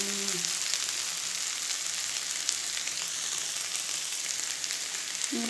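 Ginger garlic paste sizzles and fries steadily in a pan, a continuous close hiss with faint crackles, alone without talk.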